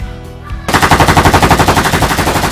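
A toy Nerf Glock pistol firing in rapid automatic succession, a steady loud mechanical rattle of evenly spaced shots starting abruptly after a short quiet lead-in and continuing close up.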